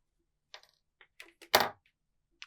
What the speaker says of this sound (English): And then grab scissors and snip off.